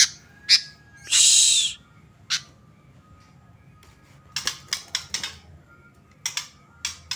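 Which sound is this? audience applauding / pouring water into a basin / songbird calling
songbird calling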